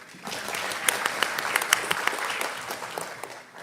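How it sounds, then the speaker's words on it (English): Conference audience at a cancer conference session claps for a speaker, a moderately loud stretch of many hands with distinct sharper claps standing out, rising quickly and tapering at the end without any talking. "Would you like to give him more applause"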